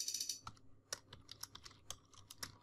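Code being typed on a computer keyboard: quick, uneven clicks of individual keystrokes, close and fairly quiet, with no voice.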